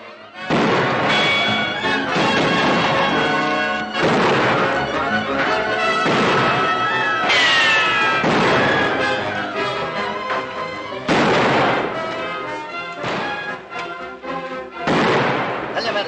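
Gunfire in a 1941 western film, loud bursts of shots and blasts repeating in uneven volleys across the scene, with some voices in between.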